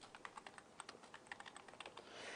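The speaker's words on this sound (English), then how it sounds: "I'm not typing very well" Rapid, uneven keystrokes on a computer keyboard, close and clear, clicking in quick bursts with short pauses and no voices.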